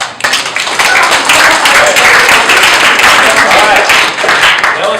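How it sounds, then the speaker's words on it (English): A workshop audience of young people claps together, loud and close, in a thick, continuous burst lasting about five seconds. "And start clapping."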